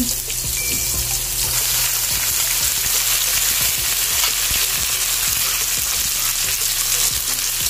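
Chicken sizzles loudly in a pan with sautéed onion, garlic and tomato for ginisang sayote, a constant close frying hiss broken by regular scraping stirs.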